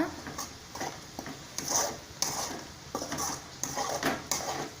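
Two beaten eggs are mixed in a bowl for a chapati egg roll, with quiet, rhythmic scraping and light tapping strokes repeating close by.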